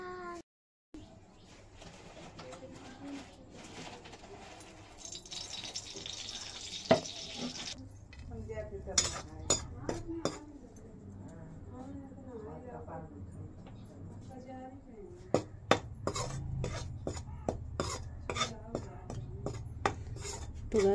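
Atta flour being roasted and stirred in a metal pan in a village kitchen, with scraping and clinking of a utensil against the pan and light sizzling, while a voice talks over it.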